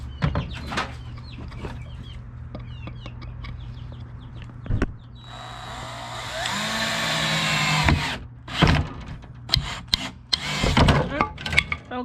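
Power drill driving screws into a wooden chick brooder, several short whirring bursts with a longer run midway, while chickens cluck nearby and a person speaks between bursts.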